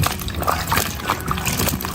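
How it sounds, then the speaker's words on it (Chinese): Water is poured over peeled eggplant cut into finger-thick strips to rinse them, a continuous close sloshing and trickling with small splashes throughout. "倒水洗上一下，等下好裹淀粉"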